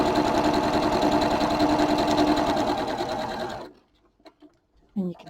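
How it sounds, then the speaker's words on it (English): Sewing machine chain piecing quilt squares, running in a loud, steady, fast mechanical whir for several seconds before stopping abruptly, followed by a brief voice. "it will just suck those underneath the foot and sew those together."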